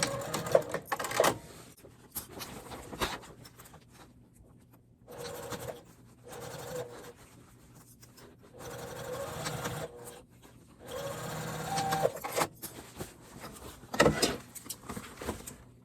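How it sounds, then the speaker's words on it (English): A sewing machine back stitches over the stressed center seam of a zippered makeup bag, in several short bursts of mechanical whirring separated by pauses, close and moderately loud with no talk. "I like to back stitch over that center seam just because it has a lot of stress on that seam, just to reinforce it"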